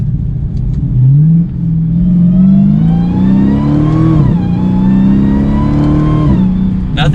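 A Dodge SRT Hellcat accelerates with a rising supercharger whine layered over the engine note, loud and close, easing off and climbing again.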